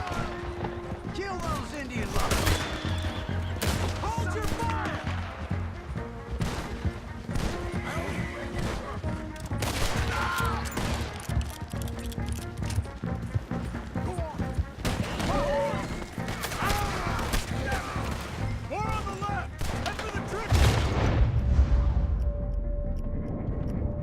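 Gunfire in Red Dead Redemption 2 cracks out in repeated sharp bursts during a chaotic battle scene, mixed with horses, shouting and crashes. Voices talk over much of the clip.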